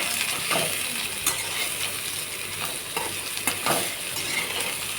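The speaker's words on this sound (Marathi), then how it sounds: "कढईमध्ये मी तेल टाकलेलं आहे आता हे दोडका परतून घेणार आहे" Ridge gourd sautéing in oil in a wok, a steady low sizzle broken by a handful of sharp scraping knocks from stirring, fairly close and with no talking.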